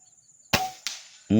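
An upgraded M3 Tac PCP air rifle, Indonesian-made, fires two sharp, loud test shots in quick succession, each a sudden crack with a brief decaying tail, followed by a short vocal sound.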